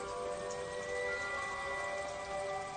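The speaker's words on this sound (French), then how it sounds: "vous pouvez créer la pluie" Rain in a TV fantasy drama, a steady soft patter of drops with a faint tonal hum underneath, continuous and fairly quiet throughout.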